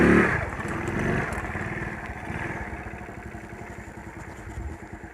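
A motorcycle engine chugs along a rough, uneven road, its throbbing rumble mixed with rattles and clatter. It starts loud, then settles into a steady, slightly pulsing drone.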